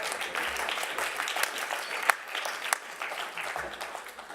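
A large audience applauds at the closing ceremony of the UIA Congress in Florence, 2014, a dense, even wash of clapping with a few sharper claps rising above it.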